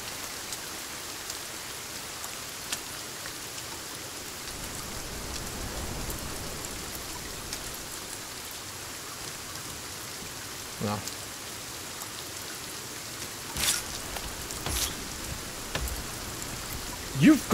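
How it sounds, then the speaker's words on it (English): Heavy in-game rain in the survival game Sons of the Forest hisses as a steady, dense wash, with a few sharper knocks and thumps near the end. "Jesus, it's some noisy ass rain."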